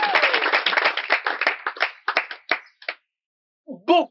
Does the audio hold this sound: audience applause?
yes